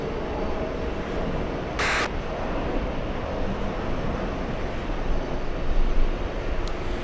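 A jet airliner roars steadily at JFK airport in New York, a broad continuous engine rumble heard from a distance, with a couple of brief sharp noises over it.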